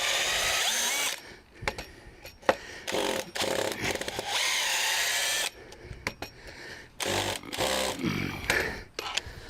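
A power drill drives screws into the wooden landing of a new deck and stairs, with several loud, close whirring bursts, each a second or more long, separated by short gaps.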